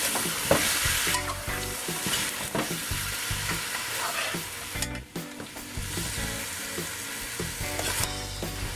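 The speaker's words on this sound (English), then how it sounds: "I just want to give it a nice mix" A spoon stirs Trinidadian pigtail pelau with a small piece of cut pumpkin in a pot, with repeated scraping and clattering strokes over a continuous sizzle.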